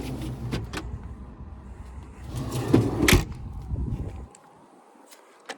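The wheel well drawer of a 2022 RAM 5500 Medtec Type I ambulance slides with a rumbling rattle and several sharp clicks, ends in a firm thud, then a faint click follows in the quiet.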